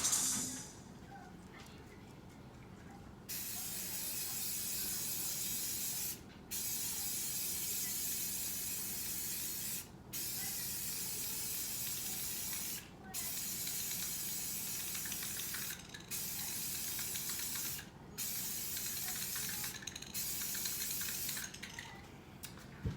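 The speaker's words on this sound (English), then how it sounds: "I'm gonna spray paint this one real quick again" A spray can hisses out paint in long, steady bursts, each lasting a few seconds, with brief pauses and a rattle between them, close and fairly loud.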